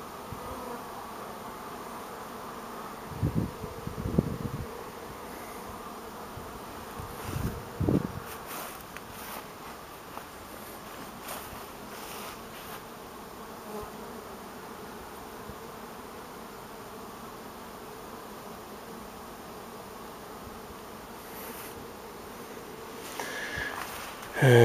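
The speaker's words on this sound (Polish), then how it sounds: "Pszczoły ładnie chodzą dzisiaj" Honey bees hum steadily around flowering Jerusalem artichoke plants on a very hot day near an apiary, a soft continuous drone with occasional louder passes as individual bees fly close to the microphone.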